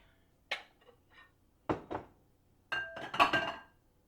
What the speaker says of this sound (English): Let's get a mixing bowl.